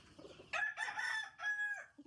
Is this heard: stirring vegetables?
no